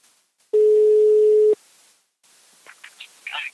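A single steady telephone tone sounds for about a second while a call is being placed, loud and clean, followed by faint clicks and line noise.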